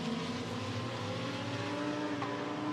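GT race cars at the Barcelona circuit in a Fanatec GT Europe race, dropping downhill, with a steady, loud, continuous engine drone from several cars at once and no voices.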